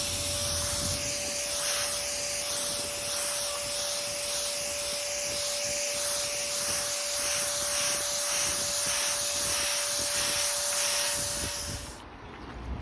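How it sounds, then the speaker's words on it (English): Spray gun laying a light coat of plastic dip on a car's side scoops, a loud continuous hiss with a faint steady whine that cuts off near the end. "So first I still start with a light coat, just to get it covered, and then the rest."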